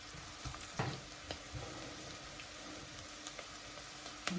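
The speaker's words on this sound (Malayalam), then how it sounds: "ഇനി ഇതിൻ്റെ കൂടെ നമുക്ക് പച്ചമുളക് കൊണ്ട് ഇട്ട് കൊടുക്കാം" Green chillies fry in a pan for lemon pickle, giving a faint, steady sizzling hiss with a few soft pops and clicks scattered through it.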